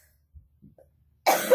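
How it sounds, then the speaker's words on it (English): A woman coughs a few faint times, then breaks into one loud, harsh cough near the end, during an interview chat. "Oh, I'm so ready for this cough to be gone."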